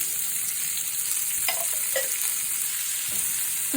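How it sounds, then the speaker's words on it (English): Celery, onions and carrots sautéing in a soup pot with salt and crushed red pepper, a steady soft sizzle throughout with a few brief stirring scrapes, close and alone with no talking. "I'm going to saute that up until it's kind of, the onions are clear"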